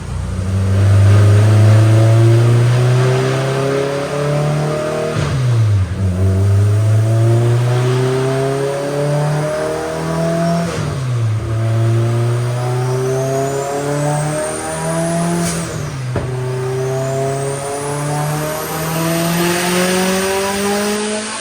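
Close and loud, a turbocharged Honda S2000 drift car with a small turbo revs hard on a dyno. The engine climbs through several long rising pulls, drops sharply at each gear change and carries thin whistling turbo tones over the droning roar.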